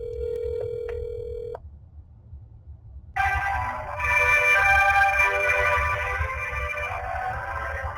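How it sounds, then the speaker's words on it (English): A phone line after dialing: a short steady tone, a gap of near silence, then a louder ringing-type signal with a broad buzzy burst that continues to the end. "dial the phone again."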